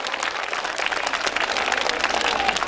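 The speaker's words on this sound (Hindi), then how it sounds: "एक बार जोरदार तालियां सारे दिल्ली वालों के लिए।" An outdoor crowd at a Car Free Day event in Laxmi Nagar, Delhi, claps steadily, a moderately loud wash of many hands that continues throughout with no voices heard over it.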